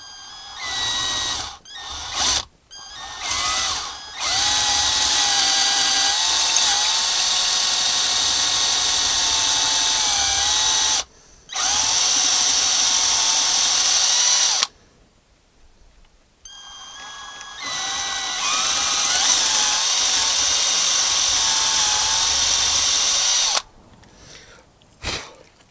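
Power drill boring stepped holes into a Fender guitar neck for threaded neck bolt inserts, sustained whining bursts broken by short pauses as the bit is stopped and restarted.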